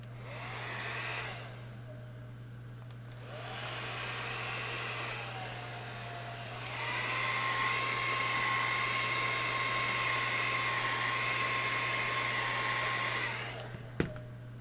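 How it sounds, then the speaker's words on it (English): Hair dryer blowing on a soft foam face hugger prop, a steady whooshing hum that runs in several bursts with brief pauses between, loud and close with a constant electrical drone beneath and a sharp click near the end. "let's do a hair dryer on this guy real fast"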